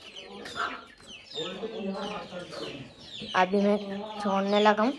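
Chickens cluck loudly and continuously as young chicks are let out of a coop, with harmonic calls building toward the end and a voice speaking over the start.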